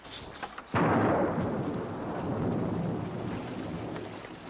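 Steady rain falls with a sudden crash of thunder that rolls on as a broad rumble, loud and close, with no voices.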